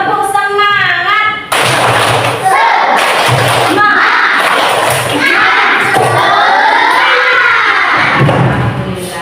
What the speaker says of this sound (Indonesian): coba kita tepuk semangat terlebih dahulu